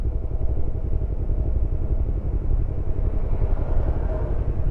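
A Yamaha R25 motorcycle engine idles close by with a steady, deep throbbing rumble, its revs drifting slightly up and down.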